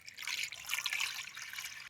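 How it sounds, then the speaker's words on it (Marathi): Water trickles and splashes steadily for a couple of seconds as it is poured over boiled eggs, a soft, close pouring sound with no voices. "आता ह्याच्या जरा घर पाणी ओतून ठेवायचं म्हणजे अंडी लवकर गारवतात"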